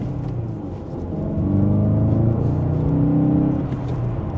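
A 2024 Volkswagen Golf GTI accelerates back up to speed after a U-turn, its engine note rising steadily as a smooth drone heard from inside the cabin, with no talk.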